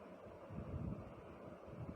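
Muffled underwater ambience from a PUBG match as the player character dives beneath the surface for cover, a low, steady watery rumble with soft swelling surges, faint and close, no voices.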